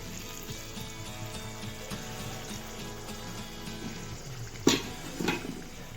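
Warm water poured into a pot of cooking chicken makes a steady rushing, sizzling wash, followed near the end by a couple of brief clanks of the pot, close and without talking.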